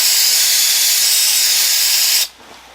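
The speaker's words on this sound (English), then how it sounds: "Give them a quick spray down." Cleaner sprays onto Volkswagen carburetor parts during a sandrail carb rebuild, a loud, steady aerosol hiss lasting a couple of seconds before it abruptly cuts off.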